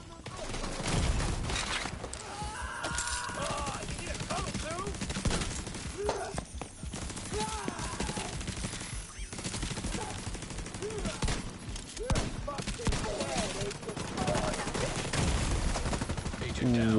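Dense game gunfire from The Division 2 with a shotgun among the weapons, loud bursts and rapid volleys running throughout with hardly a gap, while a voice comes and goes beneath the shooting.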